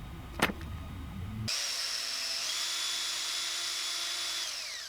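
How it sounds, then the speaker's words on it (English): A small drill boring pilot holes for hook hangers into a wooden JitterBug fishing lure, whining steadily and close after a short tap and a moment of quiet, its pitch shifting slightly as the bit cuts into the wood. "Need a couple pilot holes for the hook hangers now."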